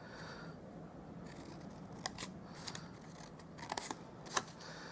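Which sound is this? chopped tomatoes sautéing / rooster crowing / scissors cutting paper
scissors cutting paper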